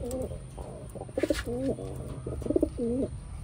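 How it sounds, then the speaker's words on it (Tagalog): Pigeons (Taiwan birds) coo in repeated low, rolling phrases, several calls in a steady rhythm, close by, with faint background noise and a brief rustle midway. "Ayan yung mga ibon natin."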